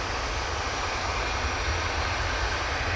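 An EasyJet Airbus A320ceo bound for Paris roars down the Manchester Airport runway on its takeoff roll, a loud, continuous broadband jet-engine rush that stays steady throughout.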